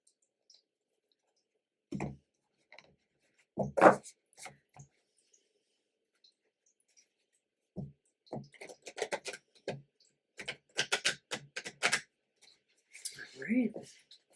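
Moonology Manifestation Oracle cards by Yasmin Boland being shuffled, giving scattered bursts of crisp card riffles and flicks. Quiet pauses separate them, and someone talks in between.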